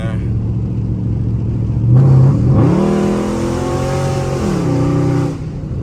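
A Dodge 392 V8 with a freshly repaired exhaust leak accelerates hard, its loud close engine note climbing in pitch through the gears with a brief shift dip, a steady heavy roar filling the clip.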